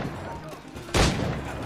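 A single pistol shot in the pirate video game Assassin's Creed Black Flag bursts out sharp and loud partway through, followed by lingering in-game ambience.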